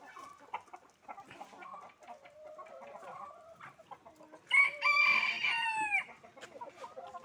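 Hens cluck softly in scattered bursts around a backyard coop before a rooster lets out a loud, close crow partway through, with more clucking after.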